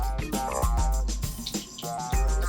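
Water from a rainmaker sprinkles and trickles steadily onto a flood plain model close by, with a few light taps and knocks over the pouring.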